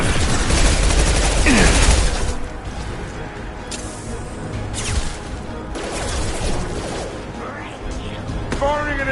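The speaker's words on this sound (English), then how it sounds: "Firing an impact shot." Impact shot fired in the video game Mass Effect 2, heavy blasts and crashing impacts over ongoing combat noise, loud and close, with voices speaking in between.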